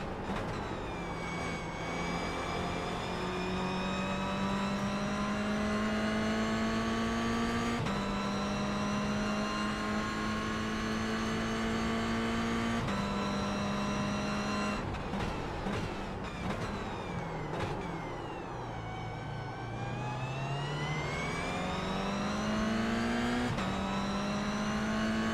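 Race car engines in a PC racing game roar steadily and loudly, pitch climbing through gears with repeated upshifts and brief drops, several cars close together throughout.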